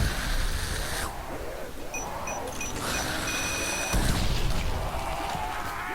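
Rapid gunfire in a zombies video game rattles steadily throughout, dense and fairly loud, with bursts interrupted by brief gaps and some electronic game tones mixed in.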